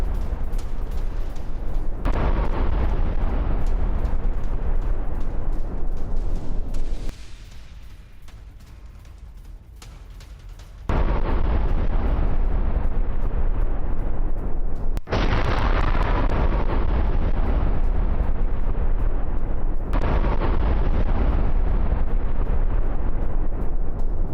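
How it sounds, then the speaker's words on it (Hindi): An attack on a Russian T-90 tank in Donetsk brings loud, rumbling explosions and heavy booms that roar continuously, dropping briefly into a quieter low rumble before sharp blasts resume with sustained thunderous noise. "डोनेट्स्क में रूसी सेना पर हमले की ये तस्वीर, जहां रूस के T-90 टैंक पर अटैक हुआ है"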